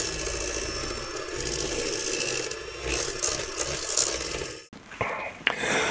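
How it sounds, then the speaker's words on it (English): Screws are loosely driven into a miter bar on a Wedge Pro segmenting sled, giving close, ratcheting mechanical turning and rasping scrapes, then a short pause and a few quieter clicks and knocks. "And then I'm just going to loosely attach these screws."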